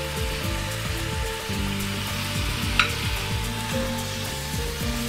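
Spice paste with turmeric, cumin and coriander powders sizzles steadily in a pan, a constant close frying hiss with occasional stirring scrapes, no voices over it.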